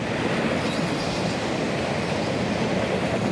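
Loud, continuous rumble of a train rolling past up close, wheels clattering steadily on the rails with a dense roar throughout.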